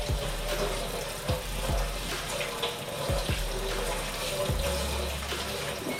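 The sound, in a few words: rinsing Brussels sprouts in colander under cold tap water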